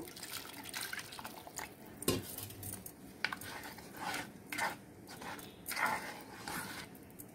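Buttermilk for majjiga charu, a buttermilk stew, stirred with a spoon in a vessel: soft, intermittent liquid sloshing with scattered light spoon clinks, fairly quiet, with no voices.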